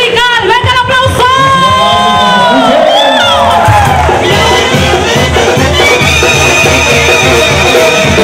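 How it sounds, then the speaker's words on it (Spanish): Loud crowd at a band concert in Gainesville, Georgia, cheering and whooping with applause, shouts and whistles rising over live music and voices, dense and close for the whole stretch. "¡Venga el aplauso!"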